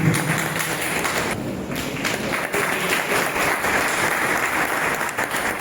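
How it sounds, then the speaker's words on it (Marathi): An audience at a Ganesh festival prize ceremony claps together to congratulate a winner, a loud, continuous wash of clapping with some dull thumps mixed in, sustained evenly throughout. "सगळ्यांनी टाळी मारून त्याचे अभिनंदन करतात गौरव करतात टाळी मारतात"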